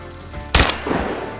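A single sharp shotgun blast at a crippled duck over deep water, a sudden loud crack with a brief rumbling tail, standing alone against quiet outdoor background.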